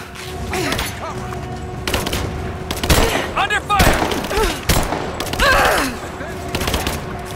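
Gunfire in Rise of the Tomb Raider, loud repeated shots and bursts mixed with thuds, with shouted voices over the shooting throughout.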